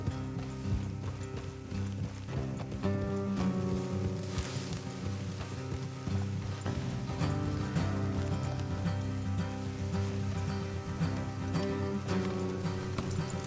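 Steady clip-clop of horse hooves at a gallop under a dense bed of music and ambience in the video game Red Dead Redemption, continuous throughout.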